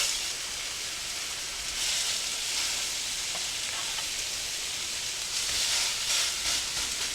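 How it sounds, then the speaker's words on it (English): Hamburger patties searing in a hot pan with oil, a steady broad sizzle and hiss that swells slightly in bursts, close and continuous with no talking. "We're going to fry them lightly on both sides, about 4 minutes on each side."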